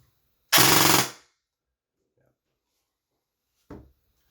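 Rapid burst of an airsoft toy gun with a high torque motor and 14:1 gear ratio, a loud half-second full-auto buzz of rounds, then silence and a shorter second burst.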